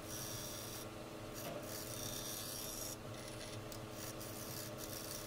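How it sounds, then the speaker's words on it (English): A bowl gouge trues up a spinning wood blank on a lathe at about 700 RPM, giving a continuous close rasping scrape over the lathe's steady hum, with brief changes in intensity. "So as usual, just truing it up here with the bowl gouge. It's around 700 RPMs"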